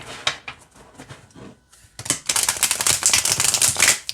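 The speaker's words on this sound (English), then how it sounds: "so we'll shuffle, we'll pull a card" Oracle cards from a Glowwood deck being shuffled by hand, a soft stop-start riffling at first, then a dense run of loud, rapid card flutters and slaps near the microphone.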